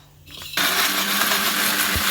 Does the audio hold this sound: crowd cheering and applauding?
no